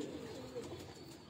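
Rampuri Banka pigeons coo softly on a rooftop, a low, brief murmuring that sounds near but faint, with no one talking.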